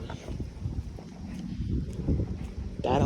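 Strong gusty wind ahead of a storm at a fishing spot in southern Minnesota, rumbling steadily across the microphone with a rising gust near the end.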